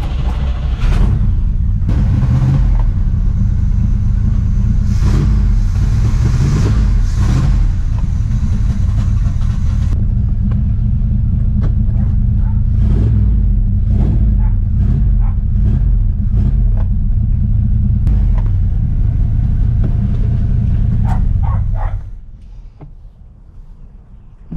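An abandoned 1979 Z28 Camaro with a V8 engine rumbles loudly and steadily at low speed while it is pulled out and turned around, with some clunks. The engine cuts off near the end, leaving near silence.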